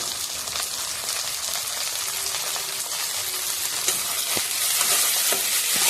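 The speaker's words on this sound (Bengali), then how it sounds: "মাছটাগুলো পেঁয়াজগুলো ফ্রাই হচ্ছে" Fish and onions fry in a pan, giving a steady, loud hissing sizzle up close, with occasional soft clicks and spatters breaking through.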